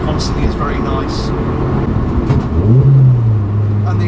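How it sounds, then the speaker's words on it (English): Modified Ford Fiesta ST150 engine rumbling steadily from inside the car, with a louder rising rev and booming exhaust note swelling near the end, close and prominent. "the exhaust is very loud as well"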